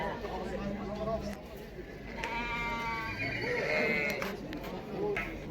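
At a livestock market, a ram and other sheep bleat a few times amid a crowd's murmur. People talk nearby, and one drawn-out bleat stands out in the middle.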